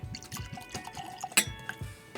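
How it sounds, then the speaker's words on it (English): Beyoncé's SirDavis rye whiskey trickles and splashes into a glass in a short, quiet pour, with small drips and a brief bright clink near the end. "Okay, that's a pretty good pour."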